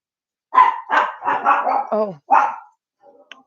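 Several dogs bark in a rapid, loud, close run of about five or six barks at the mailman's arrival, followed by a quieter pause with faint yips at the end.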